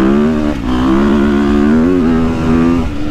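A 2022.5 KTM 250SXF Factory Edition four-stroke dirt bike engine revs up close, a loud buzzy note rising and holding briefly before easing off.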